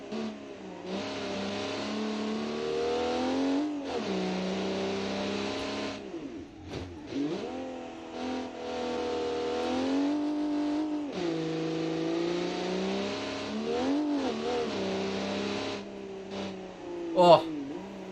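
Sixties sports car in a racing video game, its loud engine revving and shifting through gears on the short leisure layout of a Gulf Coast track, running almost continuously and close up while a person talks over it.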